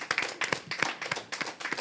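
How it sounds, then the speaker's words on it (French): An audience at a song contest claps in a short, scattered burst of applause. The clapping is fairly faint and uneven, and no talking is heard. "Alors, on l'applaudit encore bien fort, hein?"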